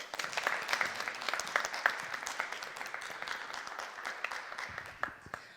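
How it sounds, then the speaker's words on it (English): A school audience claps for cadet contestants at the end of a speech competition, a fairly faint, steady patter of many hands that tapers slightly toward the end. "One more round of applause for our boys."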